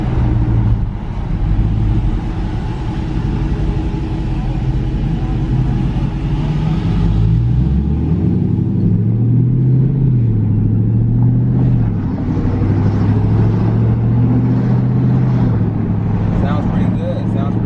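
A 2019 Dodge Charger R/T Daytona accelerates hard, its engine rumble rising and falling in pitch through gear changes, loud and close from inside the car.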